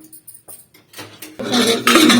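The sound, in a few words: lid being put on a pressure cooker with rice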